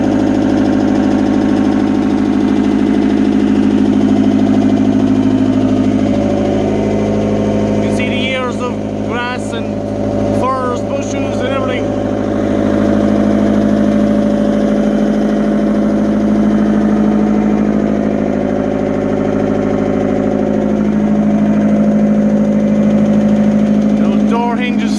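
Excavator engine running steadily while the machine is driven along near a gate, a constant loud mid-pitched drone throughout, with a brief burst of clanking and rattling partway through.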